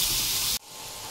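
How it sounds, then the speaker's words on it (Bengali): Potato pieces frying in oil until reddish for jhinge aloo posto: a loud, dense hiss of sizzling that drops abruptly to a quieter, steady sizzle partway through. "আলুগুলো এবার লাল লাল করে একটু ভেজে নেব"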